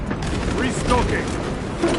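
Metallic clicks and ratcheting clatter of a gun being reloaded in Warhammer 40k Space Marine 2, dense and loud mechanical handling amid battle noise, with a voice muttering underneath.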